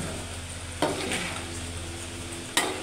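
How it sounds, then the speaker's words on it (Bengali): Spinach stirred into mixed vegetables in a cooking pan, a steady soft sizzle with two distinct scrapes of a utensil against the pan, close and without talk. "পালং শাকটা দিয়ে একটু নেড়ে নিলেই হয়ে যাবে"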